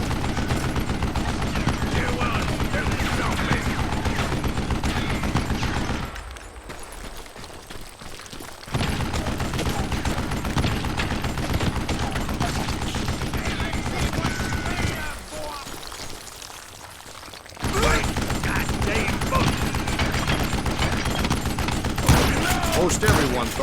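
Rapid, dense gunfire from the Western shooter game Call of Juarez Gunslinger, loud and sustained almost throughout, broken by two brief lulls.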